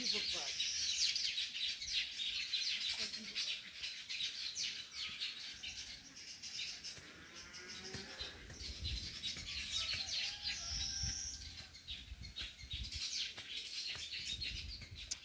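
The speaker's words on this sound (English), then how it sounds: "And the sound of this bird is amazing." Birds chirp and tweet continuously at high pitch in the village countryside, busy overlapping calls against faint outdoor background, with occasional lower rustles and a brief voice.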